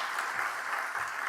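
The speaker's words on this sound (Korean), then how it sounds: "우리 영광의 박수로, 또 우리 환영의 박수, 사랑의 박수로 이분들 환영해 주시면 좋겠습니다." A church congregation in Ulsan applauds to welcome visiting missionaries, a brief, dense burst of steady clapping that fills the room.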